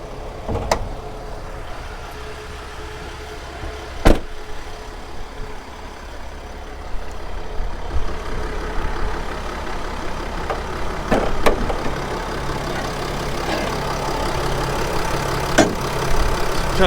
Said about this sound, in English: let's go ahead and have a look at that diesel engine.